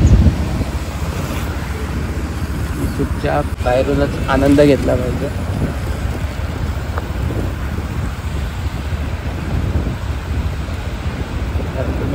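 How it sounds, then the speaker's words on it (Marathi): Rough, churning sea waves on the Ratnagiri coast, heard as a steady wash of surf and gusting wind noise on the microphone throughout, with a person speaking briefly over it. "हळूहळू हळू समुद्र तुम्ही पाहाल तर किती खवळलेला आहे तुम्हाला दिसतच असेल"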